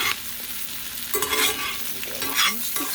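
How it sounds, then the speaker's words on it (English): Brussels sprouts sizzle steadily in a frying pan, with bright hissing bursts that swell and fade as they are stirred around, close and fairly loud. "Oh, listen to that sizzle."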